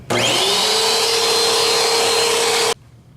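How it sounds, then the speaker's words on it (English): A vacuum cleaner with a brush attachment runs loud and steady over the grates of a home central air conditioning unit, a constant whine held for nearly three seconds before cutting off abruptly into quiet. "you just want to use a brush attachment and vacuum them down real well"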